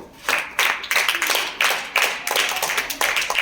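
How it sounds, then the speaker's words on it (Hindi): A small group claps in a classroom, a series of uneven bursts of hand claps, roughly six rhythmic waves, close and moderately loud. "ताली बजा दो"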